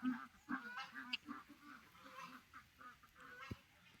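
Domestic ducks on a rural homestead give a run of nasal, honking quacks in short bursts, fairly faint and somewhat distant, with no voices over them.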